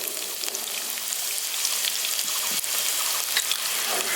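Black mustard seeds and chana dal sizzle in hot oil in a pan for a lemon rice dish, a steady crackling hiss with scattered sharp pops and spits close by, and no voices.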